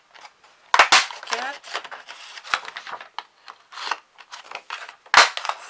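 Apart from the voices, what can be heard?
cutting cards with scissors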